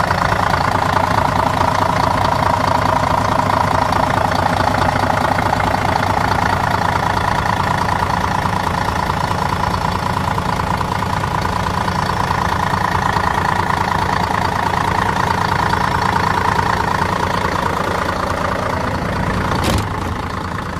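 A Setra S 315 bus engine idles with its rear engine hatch open, a loud, close, steady diesel rumble with an even mechanical chatter that runs unbroken for the whole stretch.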